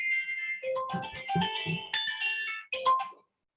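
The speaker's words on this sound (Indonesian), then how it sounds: "Ada telepon masuk." A mobile phone rings with an incoming call during an indoor religious lecture, playing a short melodic ringtone of bright electronic notes that stops abruptly, heard clearly and alone.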